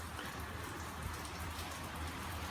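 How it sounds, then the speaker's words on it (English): Steady heavy rain pours down as a typhoon approaches, a dense continuous hiss with close patter on surfaces and no voices, holding even in level throughout. "in the meantime, it's definitely raining a lot"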